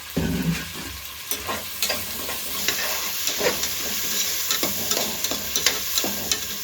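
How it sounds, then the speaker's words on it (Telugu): Chopped onion and two green chillies frying in a pan for country chicken curry, a loud continuous sizzle with repeated scraping stirs close up, no speech. "ఇదైతే చక్కగా ఎర్రగా వేగాలండి ఉల్లిపాయలు"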